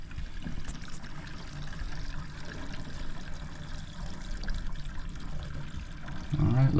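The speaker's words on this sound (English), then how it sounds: "there's our water going down." Water pours and drains steadily through newly replaced galvanized steel pipe in a home plumbing setup, a continuous close trickling flow that swells slightly louder at the very end.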